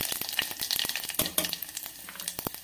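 Cumin and mustard seeds spluttering in hot oil, a dense crackle of sharp pops and sizzling bursts, close and steady throughout, with no voices.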